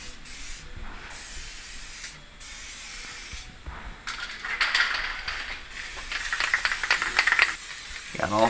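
Aerosol lubricant sprayed onto the welded spots of Ford Raptor shocks, a 2010 truck at 100K miles, heard as a run of short hissing bursts, louder and repeated in the second half, close by with no talk.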